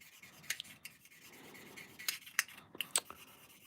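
Light scattered scratches and squeaks of finer grit sanding on a small plastic part of an Academy MiniCraft Grumman F4F-4 Wildcat model, brief irregular strokes close by and quiet.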